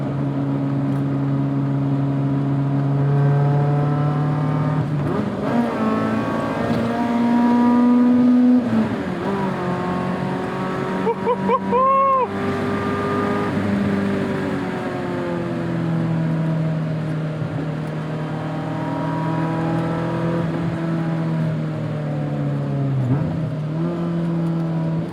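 A 1988 BMW M3 E30 with about 230,000 miles revs and accelerates through the gears, its engine note climbing and dropping in long sweeps with brief shift pauses, loud and close throughout with no talking.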